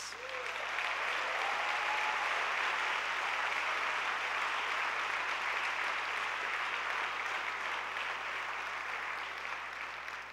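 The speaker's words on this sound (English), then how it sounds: "Can we show a round of applause and love for our top 10 teachers?" Sustained applause from a large conference audience honouring top 10 teachers, steady and loud throughout, with no pauses.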